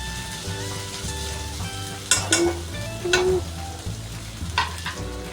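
Ginger garlic paste sizzles steadily in a pan while being stirred, with a few sharp scrapes and clinks of a spoon against the pan over the low constant frying hiss.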